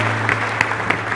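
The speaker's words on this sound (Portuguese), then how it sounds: "Dá uma salva de palmas para Jesus." Church congregation applauding at a service, a steady wash of dense clapping with a low hum underneath, a few sharper claps standing out.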